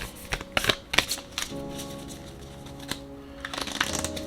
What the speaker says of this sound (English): let's go ahead and shuffle